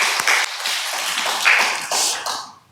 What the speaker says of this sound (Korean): 우리 아가페아 찬양들의 박수로 우리 축복하겠습니다